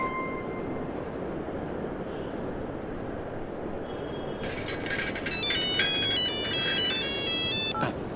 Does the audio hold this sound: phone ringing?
yes